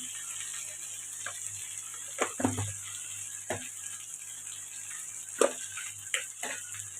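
A potato and meal maker curry fries in an uncovered pan with a low, steady sizzle, broken by a few scattered scrapes and taps of a spoon against the pan.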